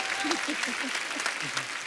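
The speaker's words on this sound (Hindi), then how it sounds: "उसके लिए जोरदार ताली" Studio audience at a Hindi comedy talk show breaks into brief, hearty clapping, a short steady burst with a voice speaking over it.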